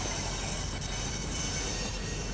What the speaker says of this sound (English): these GP7s are going to have a lot of work to do in the Olympia train yard